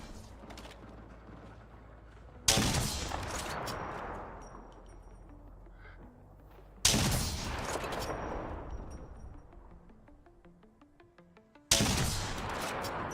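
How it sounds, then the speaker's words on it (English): Gunfire in the game Overwatch 2 comes as three separate loud blasts a few seconds apart. Each one hits sharply and then rings out in a long decaying tail over quiet game background. "Shots fired at me."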